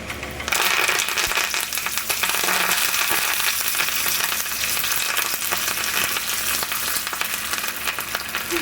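Dried red chillies and curry leaves crackle and fry in hot oil for a moringa pickle, a loud, dense, continuous sizzle that holds steady throughout with no talking.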